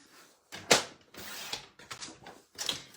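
A paper trimmer's cutting arm is lifted open in a few short mechanical clicks and creaks, close and distinct, with brief gaps between the movements.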